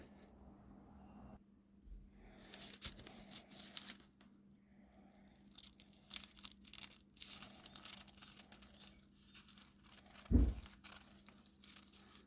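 Scissors snipping and paper crinkling while a diamond shape is cut out for a kite, quiet and close, with irregular rustles and a sharper handling thump near the end.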